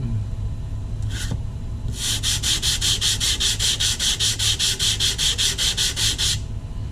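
A composite fin being sanded with 80 grit sandpaper, a rapid run of rhythmic back-and-forth scraping strokes, close and loud, after a brief initial scrape.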